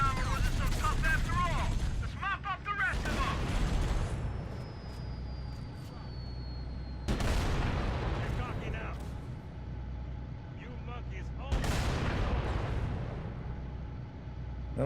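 Heavy tank cannon blasts from Halo: Combat Evolved Anniversary, on the Assault on the Control Room mission, three loud booming bursts roughly four seconds apart with rumbling tails, under ongoing talk.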